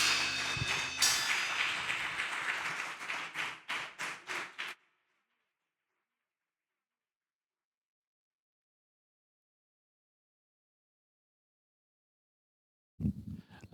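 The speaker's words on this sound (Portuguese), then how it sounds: "Dê um aplauso bem alto para o Senhor Jesus essa noite" A church congregation applauds at a Santa Ceia service, with dense close clapping that thins into scattered claps before stopping abruptly. A long silence follows, then a brief burst of sound returns at the very end.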